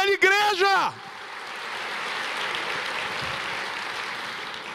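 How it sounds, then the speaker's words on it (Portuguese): A church congregation breaks into sustained applause, a broad steady clatter that follows a short spoken phrase and carries on alone for several seconds. "Você pode aplaudir o Senhor, aplauda o Senhor."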